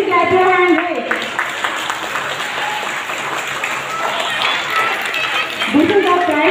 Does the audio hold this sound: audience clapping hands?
yes